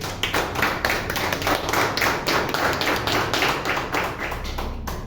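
A church congregation claps loudly and steadily for Jesus during a Spanish-language sermon, a dense, continuous wash of many hands close by with no talking over it.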